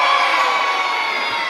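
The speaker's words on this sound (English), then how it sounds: "Let's start with a cheer." Children cheer together in a brief, bright burst of shouting and whooping that fades slightly over a second and a half.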